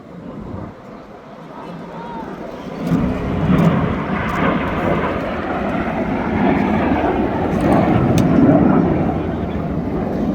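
A Red Arrows jet at an air show in Blackpool roars past at over 450 mph, a loud, broad rushing engine noise that swells and holds steady under a commentator's amplified voice and crowd murmur.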